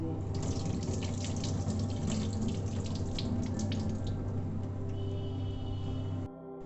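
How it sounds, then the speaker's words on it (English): Frozen prawns being rinsed under running tap water in a sink, a steady close splashing stream that runs continuously before cutting off near the end. "Here we are going to clean it up, and we clean it thrice with clean drinking water."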